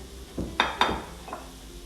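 Potatoes for a Spanish tortilla cook in a pan over a faint sizzle, with a few distinct clinks and scrapes as a utensil turns them.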